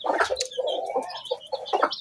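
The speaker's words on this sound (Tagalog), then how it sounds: "Ari mga manok, manuktok na." Chickens cluck and murmur close by in a short burst of soft, overlapping calls.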